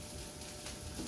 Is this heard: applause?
no